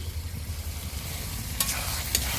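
Spice paste and tomatoes fry in a pan while being stirred, giving a soft, continuous sizzle with low rumble and two brief scraping clinks of the utensil late on, fairly quiet and close.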